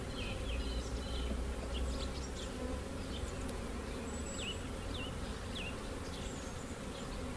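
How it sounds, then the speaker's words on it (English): Honey bees buzz steadily around an open hive frame during a colony inspection and nucleus split, a continuous near hum with birds chirping faintly in the background. "Bees are working on there, there's nectar in there."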